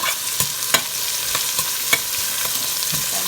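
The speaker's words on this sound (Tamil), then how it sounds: "வெங்காயத்தை போட்டுட்டு அந்த கையோடையே கருவேப்பிலை, பச்சை மிளகாய் போட்டு கொஞ்சம் வதக்க விடுங்க" Onion, curry leaves and green chillies sauté in a pan for a Sri Lankan drumstick and prawn curry, giving a steady close sizzle broken by several sharp scrapes and clicks of a stirring spoon, with no talk.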